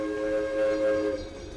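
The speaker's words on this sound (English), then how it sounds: "Train is on its way to the Midway." A Valley Railroad circus train on the move, its whistle or horn holding a steady sustained tone over a rumbling background, fairly loud and close with no talking.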